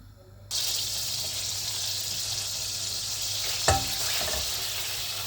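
About two tablespoons of butter melting in a pot, a steady close sizzle starting abruptly and holding evenly, with a brief clink of a utensil partway through and no talk.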